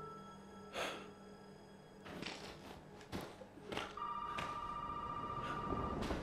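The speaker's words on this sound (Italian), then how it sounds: "Mo squilla il telefono." A telephone rings in the horror game Resident Evil 7, a steady electronic tone that starts partway through and holds after some soft thumps, rustles and a breathy snort nearby.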